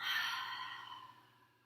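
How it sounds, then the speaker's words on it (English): A long, audible open-mouth exhale during a vinyasa yoga session, a soft breathy sigh that fades gradually over nearly two seconds with no talking. "Releasing all doubt, all expectation on an open mouth exhale"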